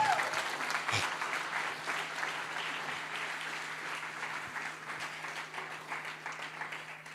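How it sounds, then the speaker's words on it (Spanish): A church congregation applauds steadily throughout, a continuous wash of clapping that slowly fades a little, with a low hum beneath. "¿Te da un aplauso a Dios por eso?"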